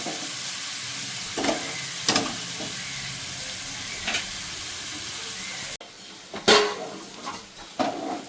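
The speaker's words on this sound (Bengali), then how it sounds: "মাছের তেলটা একটু ভালো করে আমি ভেজে নেবো, তাহলে পেঁয়াজগুলো একটু ভালো করে ভাজা হবে।" Onions fry in fish oil in a pan, a constant sizzling hiss punctuated by clanking metal spatula strokes against the pan, several sharp and near.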